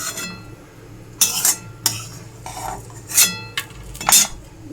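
A metal utensil scrapes burnt egg bits off a cooking pan in short, sharp bursts of scraping and clinking, with quieter pauses between them.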